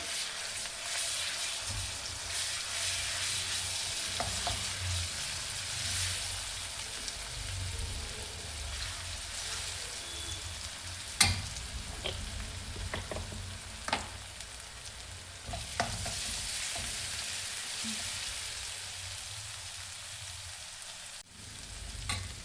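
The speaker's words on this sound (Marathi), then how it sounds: "1 चम्मच आलं लसणाची आणि कोथिंबीरची पेस्ट, ती सुद्धा तेलामध्ये छान होऊ द्यायची" Ginger, garlic and coriander paste fries in oil with onion, a steady close sizzle running throughout, broken by a few sharp spoon clinks and scraping stirs.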